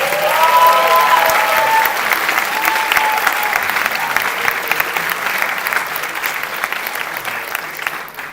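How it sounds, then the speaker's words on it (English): Sustained applause from an audience at a general assembly council meeting, loud and steady throughout with a faint tonal hum early on, gradually tapering slightly toward the end. "give a big applause to local group Lappeenranta"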